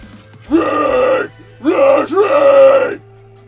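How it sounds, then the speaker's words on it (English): A metal vocalist performs harsh screamed vocals, two long, loud, gritty bursts close to the mic, the second split into a double pulse, with a short breath gap between them. "it's not as loud as my usual scream"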